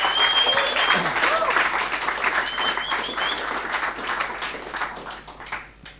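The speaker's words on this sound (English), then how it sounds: "just one more round of applause because they delivered" Audience applause for game jam teams at a game development event, a steady dense wash of clapping that holds throughout and fades slightly toward the end, with faint voices mixed in.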